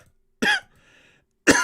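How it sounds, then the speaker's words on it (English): Two sharp, close coughs from a person with a cold, separated by about a second of near silence, with a faint breathy sound in between. "Sorry guys, I got a cold, so every now and then I'll be coughing."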